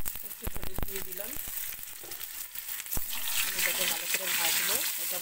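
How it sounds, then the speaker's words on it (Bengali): Potatoes sizzle in a pan with salt and turmeric ahead of a meat curry, a crackling fry broken by a few sharp clatters, while a person talks over it. "মাংসের আলুটা ভাজছি এখন"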